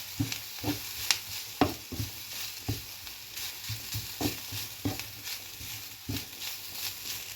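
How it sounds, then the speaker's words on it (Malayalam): Grated coconut sautéing in oil for a Kerala sprouted green gram thoran, with a soft steady sizzle under repeated scraping stir strokes, close and moderately loud, no talking. "തേങ്ങ ഒന്ന് എണ്ണയിലൊന്ന് വഴറ്റിയെടുക്കാം"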